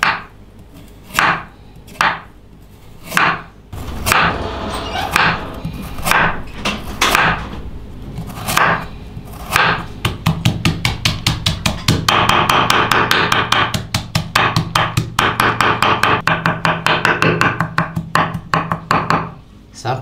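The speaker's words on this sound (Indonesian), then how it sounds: "1 buah wortel ukuran besar. Potong tipis-tipis dulu." A knife chops a large carrot on a cutting board, first in slow, spaced thuds and then in a fast, even run of close, loud taps.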